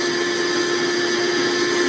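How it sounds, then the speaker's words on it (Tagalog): A vacuum cleaner motor runs just after being plugged in and switched on during motor troubleshooting, giving a loud, steady, unbroken whirring hum with a fixed tonal whine throughout. "So the vacuum cleaner is alive."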